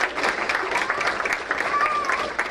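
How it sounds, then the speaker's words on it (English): An audience at a school board meeting gives a short round of applause, a steady patter of clapping from a modest crowd in a room, joined by faint voices. "if we could give them a round of applause"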